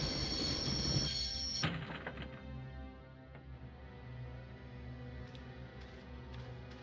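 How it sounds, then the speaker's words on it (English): A train in the Broken Sword video game brakes to a halt, with a loud screech and hiss that drop after about a second into a quieter rolling rumble. "I always wanted to stop the train, and now was my chance."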